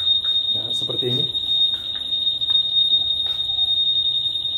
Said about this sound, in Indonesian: Saat tersenggol, terganggu, dia ada bunyi-bunyi buzzer.